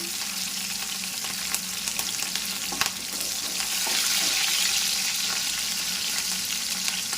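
Green chillies hit hot oil with reddened garlic in a pan, giving a steady close sizzle that swells slightly midway, with a few light clinks and stirring scrapes and no voices.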